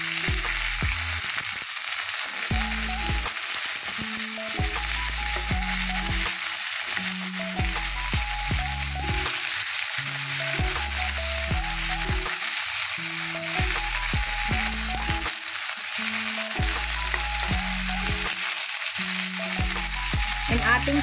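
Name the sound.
vegetables frying and sizzling in a pan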